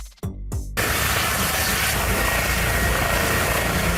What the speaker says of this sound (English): Helicopter. A rotary-wing aircraft capable of vertical takeoff and landing